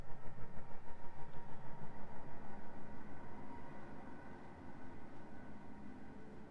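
Train ride ambience in a video game opening sequence: a quiet, steady rumble of rolling carriages with a regular rhythmic pulse, like wheels passing rail joints. The pulse is strong at first and eases slightly toward the end.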